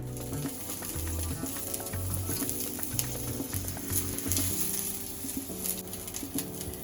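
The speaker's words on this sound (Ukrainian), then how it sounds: "пательні додаю оливкової трошки олії, чесничок, розмаринчик і з двох сторін обсмажую" Slices of bread for toast frying in a pan with a little olive oil, garlic and rosemary, giving a steady close sizzle throughout with scattered crackles and faint background tones.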